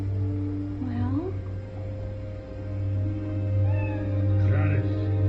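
A cat meows a couple of times in the video game Drakensang: The River of Time, over a steady low hum and background music, with a voice speaking softly in between.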